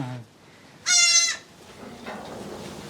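A young goat kid of Gujari-Ajmera mixed breed gives one loud, nasal bleat of about half a second at a goat farm, with a faint voice and quiet farm background around it.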